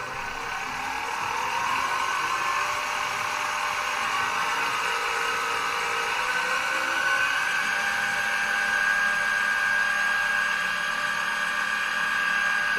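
Spindle of a Weiss VM32L milling machine running steadily and speeding up from roughly 480 rpm, a continuous motor whine that rises in pitch, close and alone.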